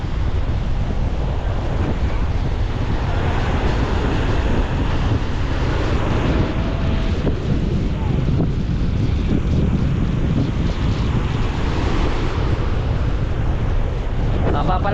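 Ocean waves roll in one after another at a river mouth while strong wind buffets the microphone, a loud, continuous roar of surf and gusts with no clear speech.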